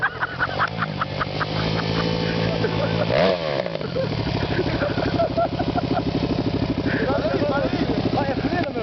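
A motorcycle engine runs close by at a group year-end riders' outing, its steady drone briefly revving and falling, while people talk loudly over it.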